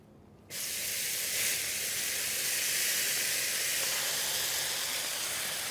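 After a brief quiet moment, potatoes hit an oiled outdoor griddle with a sudden loud hiss that settles into a steady, close, continuous sizzle with no talking.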